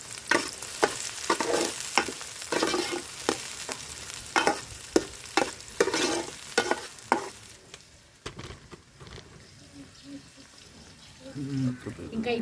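Onions frying in a pan for a village-style egg curry, with repeated loud stirring scrapes and clatters over a constant sizzle that fades to a quieter crackle near the end.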